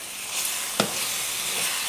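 Sauce reducing in a pan on the stove gives a steady, close sizzling hiss throughout, with one brief sharper crackle partway through and no talking.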